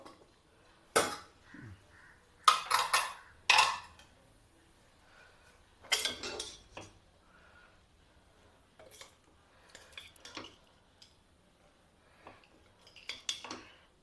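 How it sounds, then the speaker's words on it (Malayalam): Several sharp metallic clanks and scrapes of a pressure cooker lid and pot being opened, spaced irregularly in a quiet room, with small clicks between. "കുക്കർ തുറന്ന് നോക്കാം കേട്ടോ"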